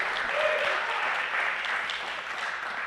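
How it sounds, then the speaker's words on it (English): A meetup audience applauds in a steady, dense wash of clapping that holds evenly for a few seconds, moderately loud and filling the room. "please, everybody, please give him a round of applause"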